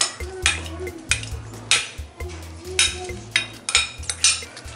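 A spoon stirs dal and rice together in a cooking pot for khichdi, giving repeated scraping clinks of metal against the pot in a steady rhythm, close and fairly loud, with no talking.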